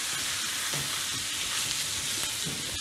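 Floured beef chunks for boeuf bourguignon sizzling and frying in a pot while being stirred, a continuous loud hiss of fat with scraping stir noises running through it.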